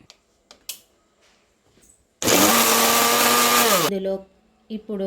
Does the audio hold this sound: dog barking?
no